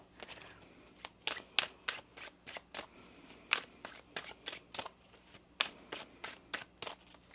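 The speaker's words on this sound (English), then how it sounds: "One more shuffle here." Tarot cards being shuffled in a quiet room: a run of quick, crisp riffling bursts, some louder and sharper than others, close by with no talking.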